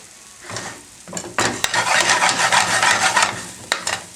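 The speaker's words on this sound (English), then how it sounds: "I coat the chicken in this spice mixture. You almost want to burn it slightly because it adds a nice smoky flavour to your Vindaloo." Chicken pieces coated in vindaloo spice mixture fry and scrape in a hot pan with a loud, dense sizzle, broken by a few sharp stirring strokes, close up and without speech.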